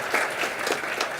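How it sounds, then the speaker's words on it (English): Applause at a chamber of commerce annual meeting for a board member from a savings bank, a steady wash of many hands clapping throughout, fairly close and continuous with no talk. "we can give Patty a round of applause"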